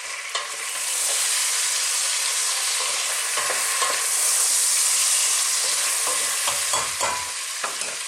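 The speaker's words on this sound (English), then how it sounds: "At this stage I'm going to add my leeks." Leeks sizzling in a pan for an Italian chicken and leek stew, a constant frying hiss broken by repeated scraping stirs, with the stirring growing busier toward the end.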